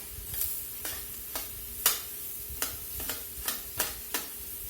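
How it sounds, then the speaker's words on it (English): Vegetables sauté in olive oil and butter as their water cooks out, giving a steady soft sizzle close up. Regular scraping stirs of a utensil against the pan repeat about twice a second. "saute and cook down here until most of the water's out of them"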